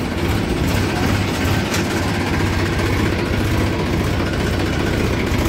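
Massey tractor engine running on a village road, a loud, steady low drone that continues unbroken with no talk.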